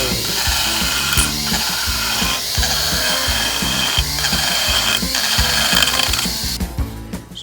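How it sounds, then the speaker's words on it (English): An aggressive rotary burr on a sanding tool grinds into a block of carving wood, giving a steady, loud, close whine with rough rubbing texture that changes as the burr bites, then quickly dies away at the end. "This is a sanding device. This is one of the more aggressive burrs"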